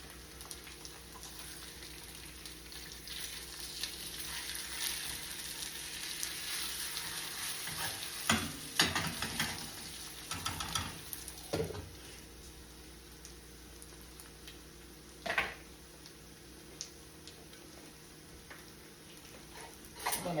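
Food sizzles steadily in a skillet of hot oil, a soft constant crackle with a few louder scrapes and taps as pieces are flipped over, faint and close with no talking.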